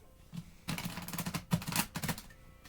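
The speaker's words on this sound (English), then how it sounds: "And then I'll go ahead and just start by shuffling some of the cards up." Tarot cards being shuffled in quick riffling bursts, a soft flutter followed by several rapid papery clatters, close and fairly quiet, with no voice over them.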